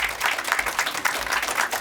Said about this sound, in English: can we give Karen and her team and the Workforce Development Board a round of applause?